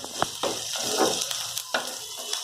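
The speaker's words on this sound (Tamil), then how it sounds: "அதற்கு முன்னாடி வந்து இந்த வெங்காயம் வந்து நல்லா வணங்கிட்டே இருக்கணும்." Onions fry in hot oil for Tamil-style kudal (intestine) fry, giving a steady, close sizzle broken by the scrape of a spoon stirring the pan, with no voices.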